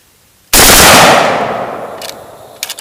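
A rifle fired in a rapid shoulder bump-fire burst, loud and close, with a short automatic-style string of shots whose roar decays over a second or two, then a few faint clicks and bumps of the bolt riding forward.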